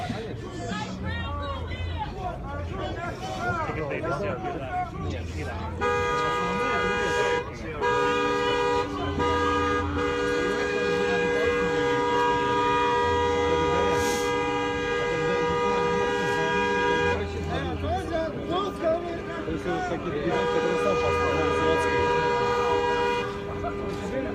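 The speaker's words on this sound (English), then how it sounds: "The horns are being honked just to agitate" Loud, sustained car horns blare over a noisy protest crowd at night outside the Ferguson police lot, several overlapping honks holding long steady tones amid constant background chatter.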